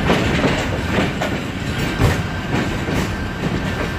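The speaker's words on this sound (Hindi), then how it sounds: "ट्रेन पहुँच रही है केपीडी रेलवे स्टेशन पर" A train rolls into KPD railway station in Karachi, a steady loud rumble of wheels and rail noise with faint rhythmic clacks and a thin high squeal, close and continuous with no talking.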